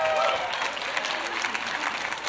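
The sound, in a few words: audience applause welcoming speaker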